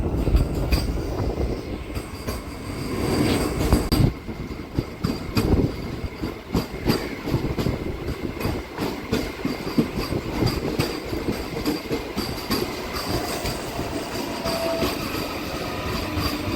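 A MEMU passenger train speeds between Rajahmundry and Bhimavaram near Kaldari station, heard from inside as a continuous loud rumble with rhythmic clickety-clack of wheels over rail joints and occasional rattles.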